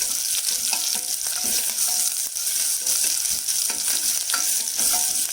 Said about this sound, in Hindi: अब इसमें हम प्याज डाल रहे हैं।